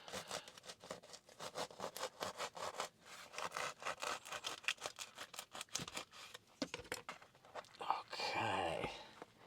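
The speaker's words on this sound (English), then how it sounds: "Trusty wooden disposable knife." A wooden disposable knife saws back and forth in quick, rough rasping strokes close up, with a brief louder scraping rub near the end.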